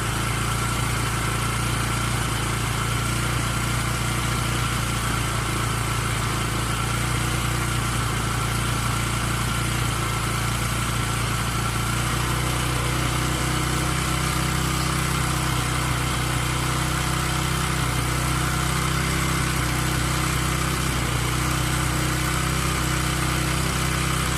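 A Bajaj Pulsar motorcycle engine idles steadily during carburetor adjustment, a continuous loud mechanical hum and rumble held at an even pace throughout with no speech.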